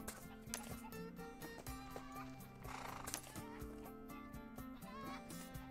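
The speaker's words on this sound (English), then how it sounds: "White donkey." A white donkey in the online game ArcheAge whinnies amid soft hoof clops and faint clucking, set over steady background game music at low volume, with no talking.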